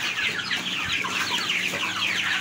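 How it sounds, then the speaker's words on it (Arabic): Fayoumi chickens and a rooster clucking close by, a loud, continuous chorus of overlapping clucks and squawks from several birds, with no talk. "عايز أمسك لكم ديك فيومي"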